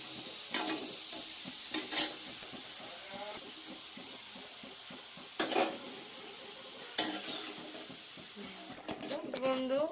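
Salted potatoes fry in a wok, a soft steady sizzle broken by a few sharp clanks of a spatula against the metal, recorded at a fairly low level.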